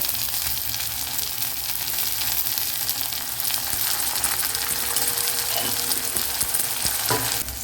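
Green chilli and ginger garlic paste fry with onions in a pan for a mushroom gravy, a loud, steady sizzle with occasional stirring scrapes.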